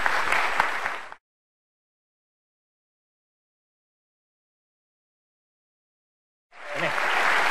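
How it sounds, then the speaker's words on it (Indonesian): Studio audience at a televised political debate on the 2014 Indonesian presidential election dispute breaks into applause in two short bursts of dense clapping, separated by a long silent gap, fairly loud and close. "tepuk tangan dulu"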